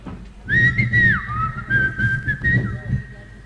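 Nearby, a person whistles a wavering, sliding tone that holds and bends for a few seconds over a background of low murmuring voices and laughter.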